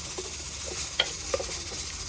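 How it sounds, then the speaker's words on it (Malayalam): Onions, green chillies and coriander powder stirred in a pan for an Angamaly-style curry, a soft scraping and light sizzle with a few sharper spoon scrapes against the pan, close and steady throughout. "ഇളക്കാം നല്ലപോലെ."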